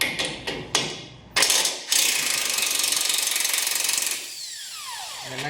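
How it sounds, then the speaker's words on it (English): Ratcheting clicks from a 19 mm wrench working the lower strut mount bolt on a 100 Series Land Cruiser, a few sharp ratchet bursts, then a sustained run of fast clicking, close and fairly loud. "we'll just stick a 19 wrench back here on the back of the lower mount"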